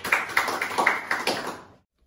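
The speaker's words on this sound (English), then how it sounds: "Give them a huge round of applause." Roughly ten sharp hand claps in an uneven run for two quiz winners in a biology classroom, close and fairly loud, stopping abruptly after under two seconds into silence.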